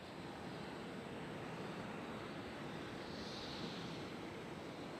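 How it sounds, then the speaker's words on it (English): An Alaska Airlines airliner in special livery taxis at Nashville airport, a steady, broad jet-engine rumble and hiss heard from a distance, constant throughout with no voices. "we got the special livery Alaska Airlines taxiing out"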